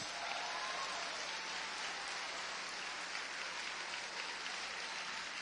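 A church congregation applauds, a dense, steady wash of clapping that fills the whole stretch evenly, like heavy rain, with no voices standing out.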